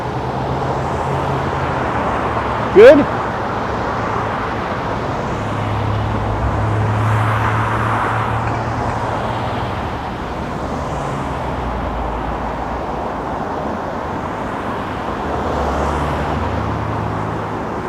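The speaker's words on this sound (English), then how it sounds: "This traffic kind of controls itself." Steady road traffic heard from a bicycle on an evening commute: a continuous rumble of passing cars and motor vehicles, with one brief spoken word.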